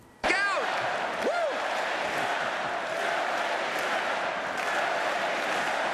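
A crowd cheers and whoops loudly in a played news clip, the roar sustained and broad after a sharp onset, with shouted voices rising over it.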